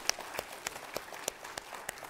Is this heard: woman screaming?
no